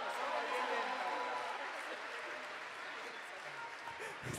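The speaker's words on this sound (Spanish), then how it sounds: "Fuerte ese aplauso." Concert crowd at an outdoor folk show applauding steadily, a dense wash of many hands clapping with cheering mixed in, strong at first and easing slightly toward the end.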